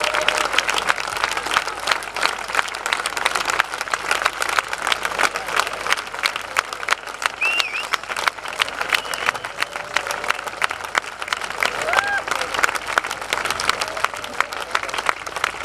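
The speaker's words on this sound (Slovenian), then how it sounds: "Na koncu je množica izjemnim nastopajočim namenila stoječe ovacije" A crowd gives performers a standing ovation at a festival concert in an old town, sustained dense clapping filling the whole span at steady loudness, with a few faint voices and whistle-like tones rising over it.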